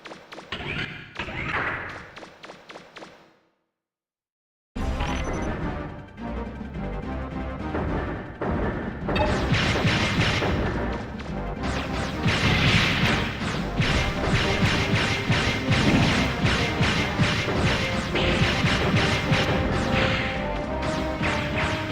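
Heavy combat impacts from fighting a giant robot in Mega Man Legends 2 on PlayStation: repeated crashes and thuds in rapid bursts, loud, with a short silent gap early on, then near-continuous hits.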